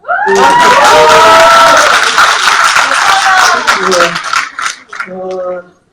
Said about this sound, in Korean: 그러니까 박수 한번 주세요